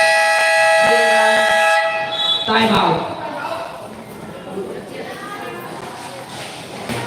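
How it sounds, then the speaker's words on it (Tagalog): A referee's whistle at a basketball game calling a personal foul: a loud, sustained shrill blast near the start over crowd and arena noise, then fading into general gym chatter. "May pito si Red Pinay."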